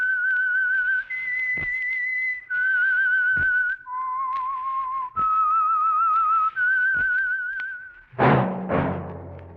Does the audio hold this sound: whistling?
yes